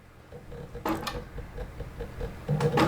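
A King Quilter II quilting machine makes a lock stitch: a few quiet mechanical clicks and clunks in quick succession with a soft motor whir, close and alone.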